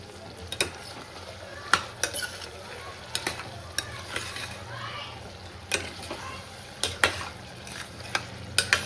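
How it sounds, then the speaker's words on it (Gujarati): Tempering for an onion and potato curry sizzles in a pan under frequent sharp scrapes and clinks of a spoon stirring, close and fairly loud throughout. "વઘારને એકદમ મસ્ત રીતે પાકી જવા દઈએ પહેલાં, પછી જોઈએ એટલું પાણી નાખી દઈએ."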